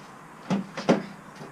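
A BMW E36 car door is shut with a couple of close, solid thuds in quick succession, each dying away fast against a quiet background.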